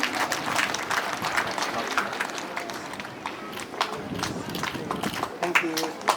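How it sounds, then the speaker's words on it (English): A crowd at a school higher secondary graduation ceremony gives a round of applause for the graduating students, sustained, irregular clapping from many hands at moderate distance, with some voices underneath. "a round of applause please for our jubilees"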